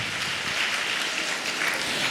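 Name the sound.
congregation clapping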